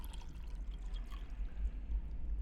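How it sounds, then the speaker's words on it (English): Water pours into a pot in a puzzle adventure game, a steady close gurgling stream with faint drips, heard alone. "I've collected some water in the pot."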